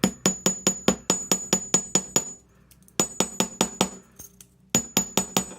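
A hammer strikes recycled sheet-metal earrings to texture them, sharp metallic taps in quick even runs of about ten blows each, separated by short pauses, close and alone.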